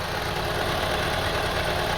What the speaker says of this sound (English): As soon as we start the engine, this rough idling started immediately after 1 minute or so.